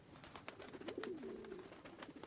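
Pigeons coo softly on a balcony, a few low rolling calls over faint background noise.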